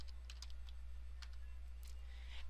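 A few scattered keystrokes tap on a computer keyboard while a layer name is typed, faint, sparse and close, over a steady low hum.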